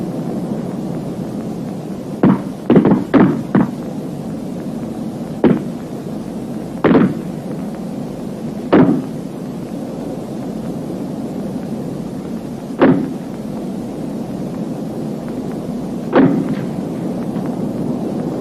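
Rifle shots crack across an army shooting range as five-round groupings are fired, single reports spaced irregularly over steady background noise, some close together and others several seconds apart.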